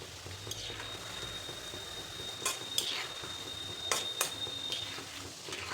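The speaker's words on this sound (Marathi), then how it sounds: "थोडेसे आपल्याला एक मिनिट भरासाठी तळून घ्यायचे जास्त डार्क नाही करायचे" Poha flakes frying in hot oil for chivda: a soft, steady bubbling sizzle with a few sharp clinks of a spoon or strainer against the pan, close and fairly quiet, with no speech.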